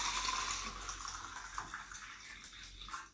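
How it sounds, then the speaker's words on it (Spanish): Water runs from a tap into three small glasses, filling them to the brim; a steady close splashing stream that gradually shifts as the glasses fill, with no voices. "Llenaremos los 3 vasos de agua hasta arriba."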